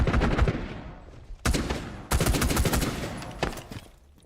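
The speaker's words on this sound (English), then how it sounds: "There's shots exchanging out." Gunfire crackles during a competitive first-person shooter match, with rapid bursts of shots traded in quick clusters separated by brief pauses, loud and punchy, with no talking.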